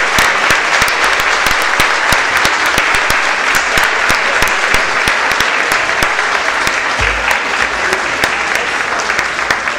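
Audience at a lecture by a minister for International Women's Day applauding, loud sustained clapping from a full room, dense and even throughout with no voices on top.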